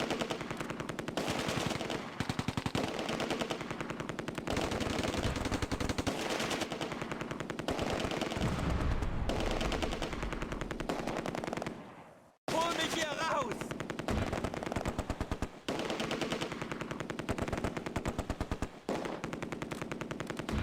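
Sustained machine gun bursts in the World War II video game Close Combat, rapid dense rattling fire with a brief gap midway, loud and continuous over several seconds.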